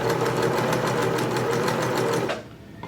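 Sewing machine stitching over existing threads on kitchen linens, a loud, close, rapid mechanical whirr with even needle rhythm running steadily before stopping abruptly near the end.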